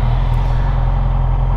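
A Yamaha YZF-R6 sport motorcycle engine runs at a steady, close, loud idle with a deep even rumble for under two seconds, with no talk.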